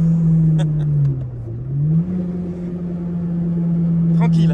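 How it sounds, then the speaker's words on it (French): A Peugeot 106 Rallye engine hums steadily from inside the moving car, its pitch dipping and rising again with throttle changes, loud and continuous under occasional speech from the occupants. "Tu le sens qu'elle a un vrai moteur"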